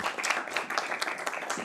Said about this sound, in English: let's give an applause